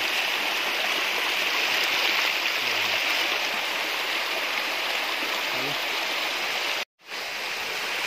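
Strong floodwater rushes through a creek with a loud, steady roar and broad hiss, unbroken for several seconds before a sudden short dropout, then the torrent resumes.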